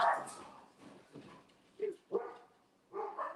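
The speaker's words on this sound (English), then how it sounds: "let them out because they wouldn't stop barking" Several dogs, one named Bugsy, bark indoors at home in loud separate bursts with short whimpers and yips between them, spaced irregularly over a few seconds.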